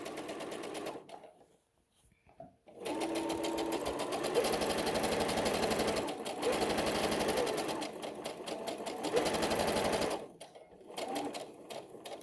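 A sewing machine runs steadily, stitching along the fabric edge against the presser foot while sewing a little dress, its rapid even needle rhythm pausing briefly twice before resuming close and loud.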